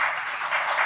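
Audience applause at an awards ceremony of Haiti's provisional electoral council, honoring Denise Dauphinet: a steady, dense wash of clapping that swells and eases slightly, without pause, throughout.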